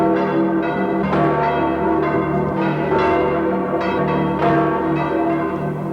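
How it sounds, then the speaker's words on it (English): A church bell tolls repeatedly in a steady, resonant rhythm, its strikes ringing out loud with long overlapping hum, with no voices present. "The bell that tolls for Easter morning also tolls for death."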